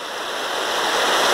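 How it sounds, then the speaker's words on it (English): A large waterfall roars in the Aigas Gorge on the Beauly River, a dense, steady rushing wash that grows slightly louder throughout with no speech over it. "Bloody great big waterfall down there."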